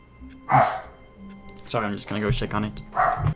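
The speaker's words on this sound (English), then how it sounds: "That's my dog." A pet dog barks a few quick yips amid a livestream of the New Stanley Parable, the barks mixed in under a man's speech.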